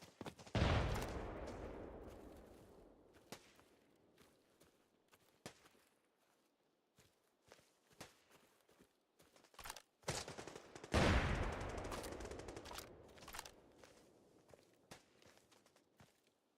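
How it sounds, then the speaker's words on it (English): Two bursts of rapid gunfire in the video game Arena Breakout Infinite, one near the start and one about two-thirds through, with scattered thuds and footsteps in between; no talking. "What is this gunfire I'm hearing anyway?"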